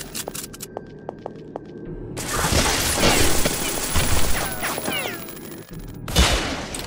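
A heavy machine gun turret fires in the video game Beyond Citadel, loud continuous bursts of rapid gunfire with crashing impacts, close and dominant for several seconds.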